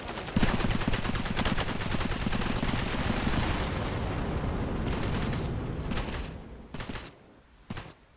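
Airstrike in Cepheus Protocol pandemic mode: a sustained barrage of rapid explosive blasts and rattling fire, loud and continuous for several seconds, then breaking into a few separate sharp bursts as it tapers off.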